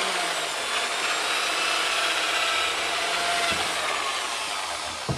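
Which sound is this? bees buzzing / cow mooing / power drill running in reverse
power drill running in reverse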